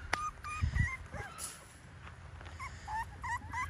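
A young puppy whimpers and yips in short, high, whiny bursts with a few sharper barks, close by in a quiet room, the calls coming in an uneven, insistent rhythm.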